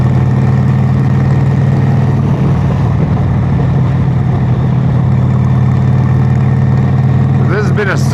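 A chopper motorcycle idles with a steady low rumble throughout, close and loud, with a brief rising whine near the end.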